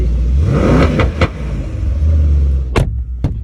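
A Mercedes-Benz car engine revs hard and close, a loud continuous rumble that rises and falls, with a couple of sharp blips near the end.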